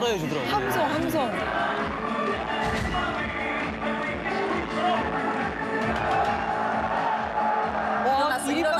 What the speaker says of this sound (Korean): 함성, 함성.